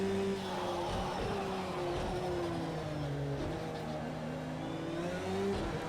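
Simulated Porsche 911 GT3 R race car engine in Project CARS 2 at the Hockenheim GP circuit, a steady droning engine note that rises and falls through gear changes, continuous and fairly loud throughout, with no talking.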